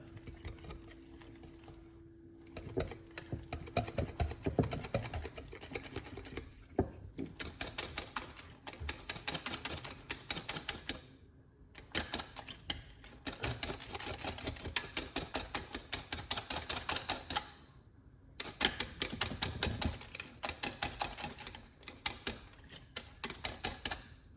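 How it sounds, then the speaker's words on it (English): Banana fritter batter whisked in a bowl for a Jamaican recipe gives a steady run of quick, rhythmic clicking strokes that keep going with only short pauses, close and fairly loud, and no voices are heard. "let's take your time and whisk it in like this"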